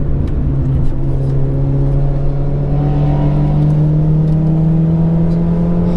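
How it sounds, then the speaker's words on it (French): A Peugeot 205 on the Nürburgring Nordschleife, warming its tyres during a track day, drones steadily with a sustained engine hum whose pitch slowly rises, loud and continuous throughout with no talk. "Philippe, il chauffe les pneus derrière."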